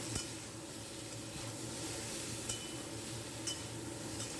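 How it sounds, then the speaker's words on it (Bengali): Topshe fish curry with salt and turmeric sizzles on a high flame, an even hissing fry with faint occasional clinks, fairly quiet and without talk. "এখন নুন আর হলুদটা আমি দিয়ে দিচ্ছি, দিয়ে ভালো করে এবার হাই ফ্লেমে দিয়ে একটু ভালো করে কষিয়ে নেব"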